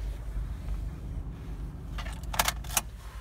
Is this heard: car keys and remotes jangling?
yes